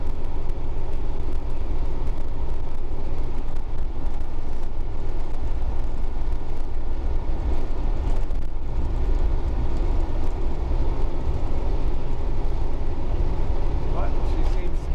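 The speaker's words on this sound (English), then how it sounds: "Very smooth sounding engine." A Class B RV engine that had sat unused for years, now running smoothly with a steady, even drone at close range, while a person talks throughout.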